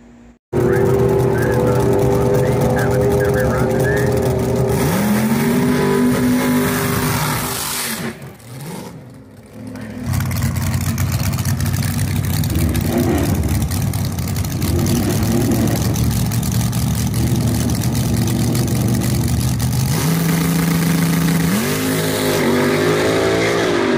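Alcohol-fueled front engine dragster with an All Pro-headed Donovan block and Windberg crank, revving hard in loud sustained pulls with rising and falling pitch, a brief dip mid-run, while a voice talks over it.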